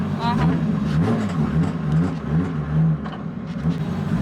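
An 800-horsepower drift car engine revs and surges in and out under a speaking voice, loud and close, with rising and falling pitches across a wet track.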